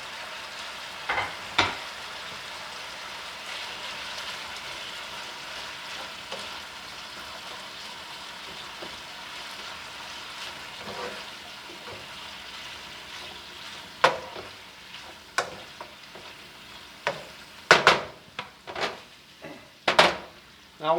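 A pot of sweet Japanese curry ingredients simmers and sizzles as a soft, steady hiss, broken now and then by sharp clanks of a utensil against the pot that come faster toward the end.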